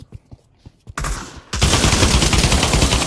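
Gunfire in the VR shooter Pavlov VR: a few scattered, muffled shots at first, then a sudden loud, dense stretch of rapid automatic fire that carries on to the end, with no voices.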